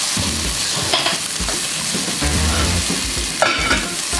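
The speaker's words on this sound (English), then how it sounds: "Let's just give this a little stir here." Red curry paste stirred in a hot pan while preparing a peanut satay udon noodle bowl: a steady sizzle with scraping, shuffling stirring strokes throughout, close and continuous with no voices.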